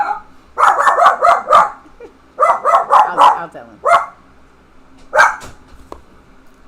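A dog barks in quick clustered runs of four or five sharp barks, then a single bark, fairly close and loud. Faint speech sits in the background.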